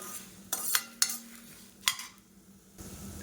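Coriander seeds and tamarind roast in a pan over a medium flame, with four sharp scraping strokes of a spoon over a low, faint sizzle.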